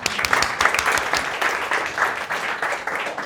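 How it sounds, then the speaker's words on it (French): A conference audience at an agile talk on OKRs applauds, a dense, steady wash of many hands clapping together, fairly loud and close, with no pauses for the full few seconds. "Je peux vous applaudir."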